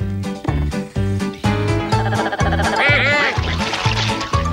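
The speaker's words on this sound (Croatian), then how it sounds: "2 patke. Kvik i kvak." Two ducks on a farm quack loudly in a rapid series over a steady, rhythmic musical backing, close and clear, with a few higher bleating-like calls mixed in.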